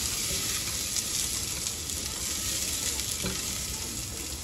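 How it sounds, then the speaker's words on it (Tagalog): Onion and ginger sizzle steadily in hot oil in a pan, a dense continuous frying hiss close by with a few faint stirring clicks. "Nalagay ko na rin po itong ating sibuyas. At yung pong luya."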